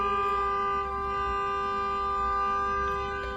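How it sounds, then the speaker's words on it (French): Car horns honk in a Paris street, a steady blaring tone of several overlapping horns holding loud and unbroken throughout. "c'est des putains de voitures qui klaxonnent"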